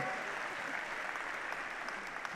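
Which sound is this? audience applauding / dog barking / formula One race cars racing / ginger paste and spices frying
audience applauding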